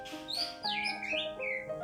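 A green leafbird (cucak hijau) gives a short run of bright whistled and squawky calls, several quick rising and falling notes within about two seconds, fairly close and clear.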